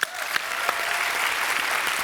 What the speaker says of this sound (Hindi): रवीना के लिए पहले जोरदार तालियां